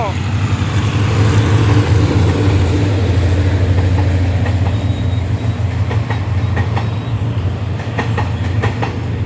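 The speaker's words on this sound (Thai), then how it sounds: "ยังไม่แน่ใจว่าขบวนอะไรแต่ได้ยินเสียงเป็นหัวรถจักรฮิตาชิ" A Hitachi diesel locomotive rumbles close by at a railroad crossing on Ranong 1 Road, with a heavy low engine drone, while wheels clatter rhythmically over rail joints as the train passes.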